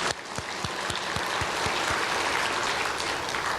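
An audience with heads bowed applauds Dr. Lee in thanks. A few sharp individual claps open into a loud, steady wash of clapping that builds and holds to the end.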